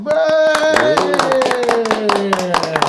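A small group in a podcast studio claps by hand, close and loud, a quick run of sharp claps lasting a few seconds while voices talk and a tone hums through it.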